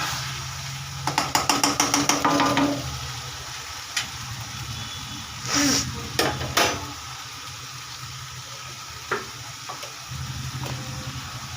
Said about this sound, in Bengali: মশলাটা একটু কষতে, তারপরে মটনটা কষাবো।